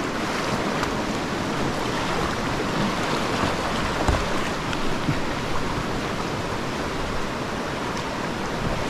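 Broadband rush of river water on the Oconaluftee River in the Great Smoky Mountains, heard from a kayak, a steady loud close churn of rapids with some wind buffeting and no talk.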